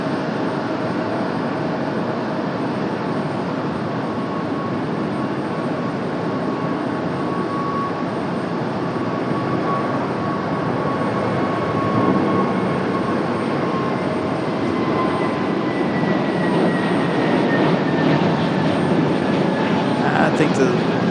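An airliner, likely a Southwest jet, roars down runway 23 left at Raleigh-Durham airport for takeoff: a loud, continuous broadband engine rumble that holds steady and swells slightly toward the end.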